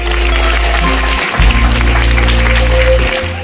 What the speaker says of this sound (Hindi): तालियों से अभिनंदन किया जा रहा है।